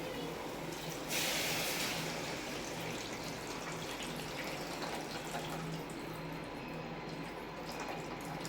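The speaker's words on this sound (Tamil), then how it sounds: "புளி தண்ணியை ஆட் பண்ணிக்கலாம்." Tamarind water poured into fish curry masala in a cooking pan, a quiet, steady liquid pour with a brief louder splash near the start, set against soft kitchen background.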